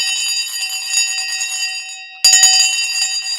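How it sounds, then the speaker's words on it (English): An opening bell rung to start a live stock market show, a loud continuous electric ringing that carries on steadily, then a louder burst of ringing near the end. "it's time to ring the bell."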